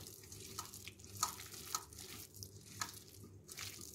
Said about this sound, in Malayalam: പാകത്തിന് വെള്ളം ചേർത്ത് വേണം അത് മിക്സ് ചെയ്തെടുക്കാനായിട്ട്